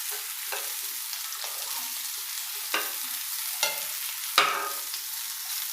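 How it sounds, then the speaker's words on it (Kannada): Cauliflower florets frying and dry roasting in oil, a steady close sizzle broken by a few sharp scraping stirs of a spatula against the pan. "ಎಣ್ಣೆಲಿ ಫ್ರೈ ಮಾಡೋದ್ರಿಂದ ಇದು ಕ್ರಿಸ್ಪಿಯಾಗಿ ಬರುತ್ತೆ"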